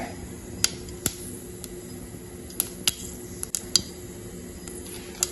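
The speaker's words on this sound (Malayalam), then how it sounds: "കടുക് പൊട്ടി തുടങ്ങി. എല്ലാം ഒന്ന് പൊട്ടട്ടെ." Mustard seeds popping in hot oil in a pan, a scattered series of sharp, bright little cracks breaking out at irregular intervals over a low steady sizzle, close by and without speech.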